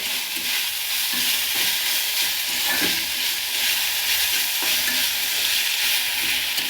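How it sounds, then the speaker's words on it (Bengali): Flattened rice (chira) is stirred and fried in a hot pan, producing a loud, continuous hiss and rustle with soft scraping of the spatula throughout, close and with no speech. "দিয়ে দিলাম চিড়েগুলোকে দিয়ে এবার এগুলোকেও ভালোভাবে আমি এখানে নাড়াচাড়া দিয়ে ভেজে নেবো"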